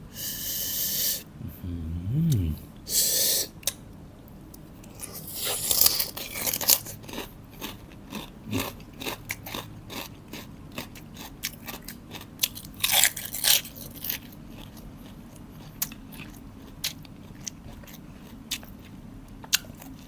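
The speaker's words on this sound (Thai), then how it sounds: "แคบหมูกรอบๆแซ่บมา" Crispy pork rinds being bitten and chewed up close, with repeated sharp crunches and wet chewing in irregular bursts, plus occasional breaths and snorts, and no talking.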